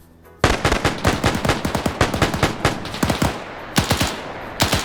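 Rapid bursts of automatic gunfire from a World War II video game match, loud and close, with sharp repeated shots in quick succession and brief pauses between volleys, no talking.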